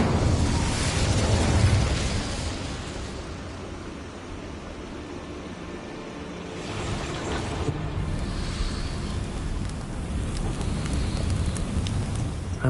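Fire spell cast in the Hogwarts Legacy video game, a broad roaring whoosh of flame that swells, eases and builds again, steady and loud throughout.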